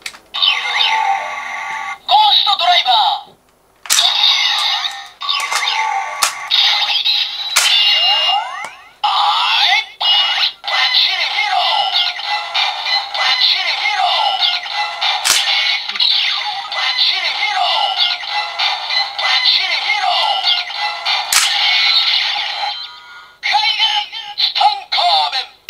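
A Kamen Rider Ghost Driver toy belt fitted with a Tutankhamun Ghost Eyecon plays loud electronic effects, sweeping tones and a chanting, announcer-like voice with music, in bursts broken by short pauses.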